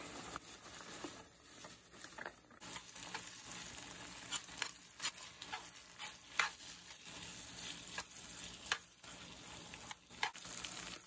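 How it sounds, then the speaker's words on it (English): Peppers and onions sizzle in a hot skillet with a continuous crackling hiss and scattered pops, fairly quiet and without talk. "our peppers and onions are sizzling away there"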